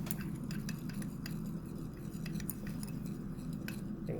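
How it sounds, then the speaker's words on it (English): Magnetic stir bar spinning in a glass of potassium thiocyanate and iron solution, a steady soft whirring hum with light rapid ticking of the bar against the glass, close and continuous. "get a stir bar to nicely stir it down"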